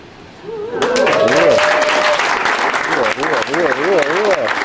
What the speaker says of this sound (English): Somebody's clapping there, buddy.